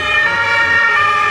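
A loud ambulance siren wails steadily and close by, its bright layered tone filling the moment without any voices.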